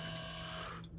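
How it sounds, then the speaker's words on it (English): A car's ABS pump whirs with a steady electric hum and whine while it recharges, faint and brief, ending abruptly after about a second. "That's just the ABS charging back up"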